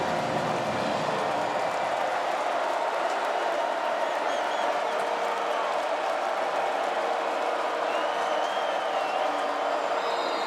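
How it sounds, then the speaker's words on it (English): A college football stadium crowd cheers during a Troy Trojans vs. Clemson Tigers game, a steady, dense roar of many voices and scattered clapping that holds at even loudness without a break. "And now the crowd is into it."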